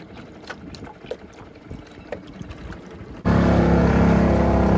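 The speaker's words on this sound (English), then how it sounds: "I'll see if I can get up with my outboard" A small outboard motor on a tiny fishing boat starts up abruptly after quiet water and wind sounds, then runs as a steady, loud, close drone to the end.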